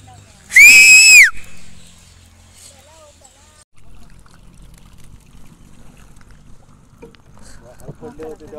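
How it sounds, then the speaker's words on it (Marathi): A person gives one loud, sharp, rising-and-falling whistle near the river, about half a second long, followed by quiet outdoor ambience and soft distant sounds. "हा मग मी शिट्टी मारतोय."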